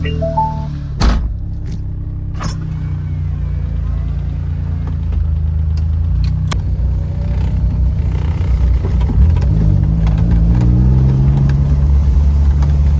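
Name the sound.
Honda Beat car driving on a test drive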